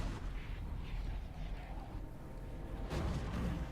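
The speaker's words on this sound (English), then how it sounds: "The cannons are going to try to shoot Be'lakor over the rise." Cannons in a video game battle fire at Be'lakor in a Warhammer tabletop-style land battle, a continuous rumbling boom of artillery with a sharper blast near the end over a low dense din.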